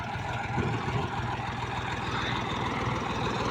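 A Dongfeng 244 DHX tractor pulling a Bomet potato planter drones steadily and loudly nearby in a field, a low rumbling throb without pauses or talking.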